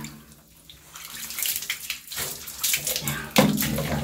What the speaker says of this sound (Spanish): El agua ya se va hacia abajo.